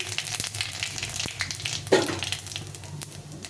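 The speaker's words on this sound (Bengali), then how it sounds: "অল্প তেলে রান্না করি প্রথমে শুকনো লঙ্কা দিলাম শুকনো লঙ্কায় একটা তেজপাতা ফাটিয়ে দিয়েছি" Dried red chilies, a bay leaf and cumin seeds fry in a little oil, giving a steady close sizzle with a brief louder crackle midway and no talk.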